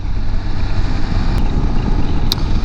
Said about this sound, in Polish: Sprawdźmy, jak ten motocykl zachowuje się w prędkościach około autostradowych